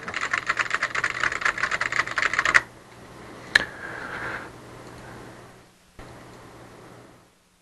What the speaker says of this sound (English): we can type in as much as we want